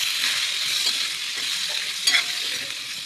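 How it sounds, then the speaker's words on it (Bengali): Pointed gourd (potol) frying in hot oil in a wok, a steady close sizzle with stirring scrapes throughout and a brief louder burst near the end, no voices. "এবার কড়াতে তেল গরম হয়ে গেছে, পটলগুলো দিয়ে দেবো, দিয়ে ভেজে নেবো"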